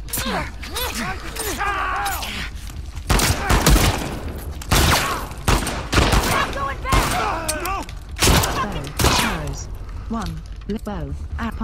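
Shotgun blasts crack out in The Last of Us Part 2, a few loud separate booms spaced across the stretch, mixed with clattering weapon handling and frequent talk.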